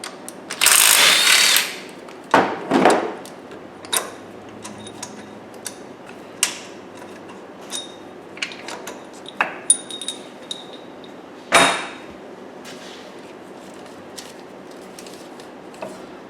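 Metallic clinks, taps and tool clicks come from removing the AC compressor mounting bolts on a 1998 GMC truck, with a loud rasp near the start and scattered sharp knocks after.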